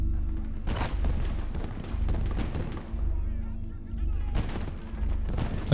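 Gunfire and booming artillery in Gates of Hell: Liberation during a defense of La Vallée, repeated heavy thuds and shots roughly every second over a low rumble, with someone speaking through it.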